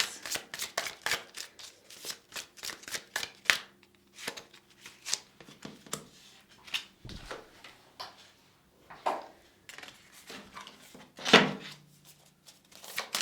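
Chakra and tarot cards being shuffled by hand, close up, in quick irregular bursts of riffling and snapping card edges with brief pauses between, no voices.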